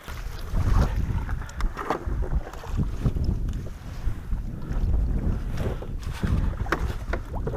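Hobie Tandem Island kayak being paddled on open water, with steady splashing and hull wash under gusting wind noise on the microphone, continuous and fairly close throughout.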